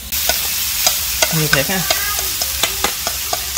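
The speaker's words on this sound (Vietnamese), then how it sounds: "Cái nấm này mà xào vậy mùi thơm gì nè." Shiitake and wood ear mushrooms stir-fried with shallots in a pot, with a steady sizzle and repeated scraping clacks of the utensil stirring, up close, while someone speaks briefly.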